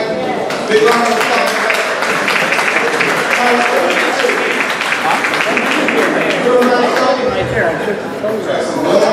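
Crowd at an art, food and fashion event applauding the artists, sustained clapping mixed with chatter and voices, loud and close throughout.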